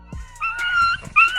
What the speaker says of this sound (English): The baby pup is literally crying.